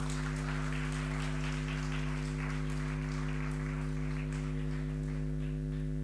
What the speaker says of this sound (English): Give a loud applause